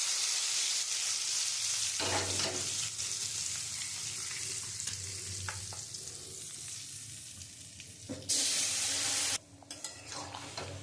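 A pan of vegetarian vegetable curry sizzles and bubbles on the stove after spices and ginger are added, with stirring scrapes and a loud burst of frying partway through.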